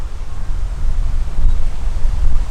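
Strong wind blows and buffets against the microphone, a constant low roar with gusty swells and no voices.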